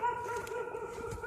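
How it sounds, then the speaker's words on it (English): A dog barks at passers-by near a yard along a forest trail, heard faint and distant as a thin, drawn-out, tonal bark. "Barking at us and we saw the dog."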